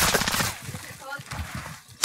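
Rapid bursts of Amax rifle gunfire in a PC shooter game, loud and fast in a steady run, with voices talking over the shots.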